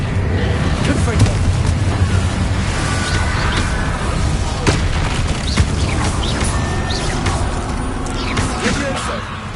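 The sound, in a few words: explosion from Confringo blasting spell in Hogwarts Legacy video game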